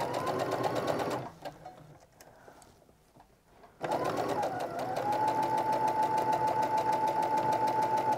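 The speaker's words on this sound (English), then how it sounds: "I've got the edge of my presser foot lined up with the edge of that lining and we're just gonna stitch around" Sewing machine stitching slowly around the lining of an upcycled sweater mitten, a loud steady mechanical whir that pauses briefly midway, then resumes and runs continuously close by.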